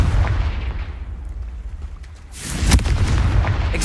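Confringo blasting spell in Hogwarts Legacy, an initial booming blast that decays into rumble, then a second loud explosive burst with sharp cracks, close and forceful.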